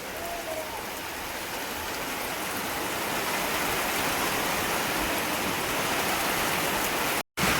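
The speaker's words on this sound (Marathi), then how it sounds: "आज मंगळवारी गडगडतं पण आहे जोरजोरात आणि एकदम जोरात पाऊस आहे" Steady, dense heavy rain pours continuously during a thunderstorm, a loud broadband hiss with a brief dropout near the end.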